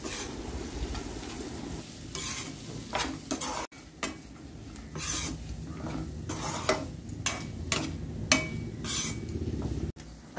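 Vegetables with turmeric being stirred in a pan, a steady soft sizzle under repeated scraping and clinking of a spoon against the pan, close and fairly loud, with no talking.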